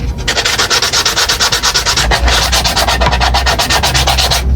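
A shoe sole is sanded by hand to prepare it for regluing, a loud rhythmic back-and-forth rasping close to the microphone with a brief pause midway.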